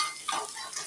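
Broken lentil dumplings (bori) fry in a pan pushed beside vegetables while making shukto, giving a brief, soft sizzle with a light stirring scrape.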